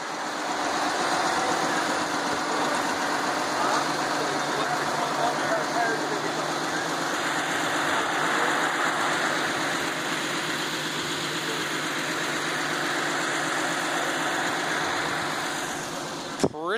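A 1926 fire engine with a Continental engine idles nearby in a shop, a steady low rumble with faint rattling that holds even for about seventeen seconds.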